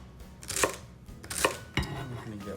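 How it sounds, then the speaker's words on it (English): A knife chops celery on a cutting board in a home kitchen while making chili and beans, giving three or four sharp, close thuds spaced a little under a second apart with quiet room tone between. "and then you can just chop it."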